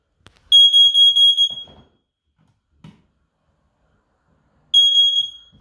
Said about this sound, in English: So this is the smoke alarm ground floor.